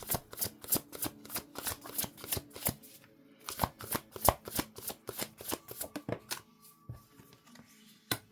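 Tarot cards being shuffled by hand, a rapid series of crisp riffling snaps in an even rhythm, close and fairly quiet, with brief pauses between bursts.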